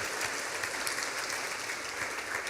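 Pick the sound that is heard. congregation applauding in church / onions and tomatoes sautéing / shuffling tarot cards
congregation applauding in church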